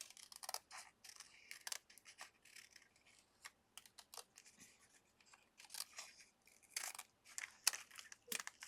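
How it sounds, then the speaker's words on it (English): Scissors snip through paper for a Christmas artist trading card: quick, crisp cuts in irregular bursts, close and fairly quiet, with no one talking. "I'm going to cut it."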